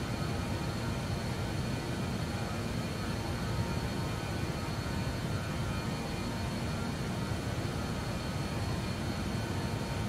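Steady, loud roar of BAe 146 jet engines during a climb in a flight simulator game, a constant broadband rush with no voices.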